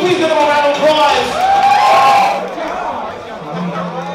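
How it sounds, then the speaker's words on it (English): A crowd at a ball, a dance-battle event, cheers and whoops loudly with scattered applause, the noise swelling for about two seconds before settling into a lower crowd murmur. "Will you please give them a round of applause?"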